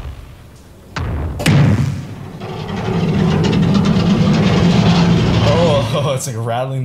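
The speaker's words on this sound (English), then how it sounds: "Oh, it's like rattling the cage." A rattling, clanking sound effect like a shaken cage opens with a sharp metallic hit, then swells into a dense, loud, grinding metallic wash that rings on for several seconds.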